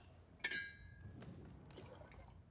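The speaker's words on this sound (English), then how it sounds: "Now pour the tea back into the pot." Tea poured from a cup back into a teapot: a brief splashing pour with a clinking onset, followed by faint trickling and dripping in a quiet room.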